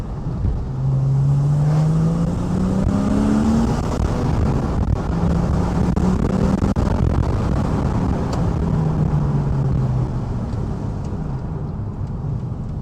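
A Porsche 911 of the 991.1 generation, fitted with an Akrapovic titanium slip-on exhaust and running in normal mode, drives along with a steady engine drone. The pitch rises through the gears in smooth sweeps, and the sound stays fairly mellow and close.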